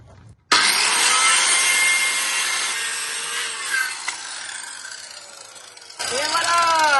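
Wood-effect lino flooring is being cut inside a van, a harsh scraping cut that starts abruptly and runs continuously for several seconds, pauses briefly, then resumes close and loud.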